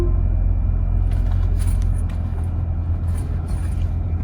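Steady, loud engine rumble from inside a moving taxi cab, with low road noise and faint rattles throughout.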